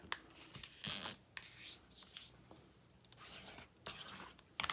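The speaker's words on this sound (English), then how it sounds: "Then I fold this one over so that there's a bit of an overlap." A sheet of book paper folded over and creased by hand to form an envelope, with soft scattered rustles and rubbing strokes, close and quiet.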